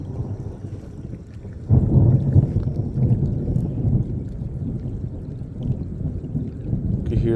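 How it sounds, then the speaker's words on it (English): Thunder rumbles through a rainstorm at a fishing spot by the water, a low, rolling roar that swells after a couple of seconds and lingers steadily with wind and rain noise. "You can hear that thunder."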